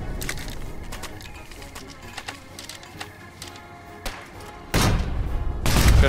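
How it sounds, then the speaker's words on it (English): Gunfire and artillery in a video game, scattered sharp shots and thuds through a noisy battle, building to two heavy booming blasts near the end. "I'm hearing gunshots."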